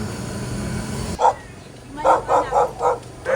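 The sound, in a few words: dogs barking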